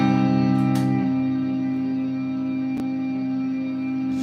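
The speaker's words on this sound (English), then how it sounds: "What happens if it was a whole bunch of reverb?" Electric guitar chord drenched in heavy reverb, struck loudly once near the start and then washing out in a long, sustained tail that fills the space, with a second faint pluck partway through and no talking.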